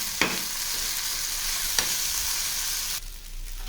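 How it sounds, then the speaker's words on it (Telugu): Rice with salt and chili powder sizzling steadily in a hot pan while being stirred, a constant close frying hiss broken by two sharp scrapes of the spoon before the sizzle drops. "అన్నం బాగా కలిపేసుకుందాం."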